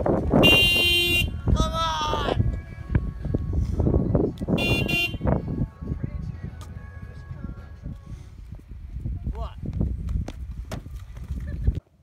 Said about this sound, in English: Yeah, don't honk, it's mean.